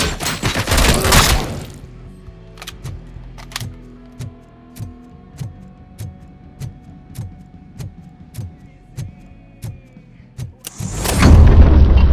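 Rapid bursts of gunfire from the video game RoboCop: Rogue City, with loud blasts at the start and end around a steady series of sharp, evenly spaced shots in the middle.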